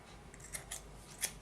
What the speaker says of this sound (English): chop off the end here because we don't want this nasty little part that had our fingers all over it in there. And cut off evenly on both sides.